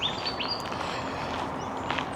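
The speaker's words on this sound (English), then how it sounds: "you can hear all the bird song" Birds chirp outside the entrance of Werribee Open Range Zoo, with a few light tweets scattered over a steady outdoor background hiss.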